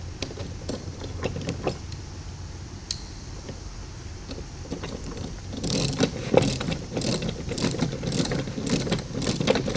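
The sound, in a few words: tightening the bolts that hold the two hinges together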